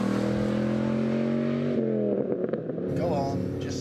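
A Dodge SRT-10 engine rumbles with a deep, steady note close by, shifting pitch as it pulls away under throttle, with a voice talking over it.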